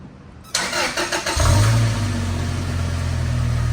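A 1999 Toyota Tacoma SR5 TRD 4x4 with a 2.7-liter engine cold-starts after sitting two days: a few rapid starter cranks, then the engine catches with a rev flare and settles into a steady, fairly loud high idle, heard close by.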